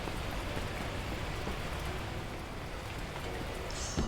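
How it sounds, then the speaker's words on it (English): Heavy, torrential rain pours in the video game Beacon Pines, a dense steady hiss of drops striking surfaces that holds at a constant level throughout, with no voices over it. "unleashing torrential rain"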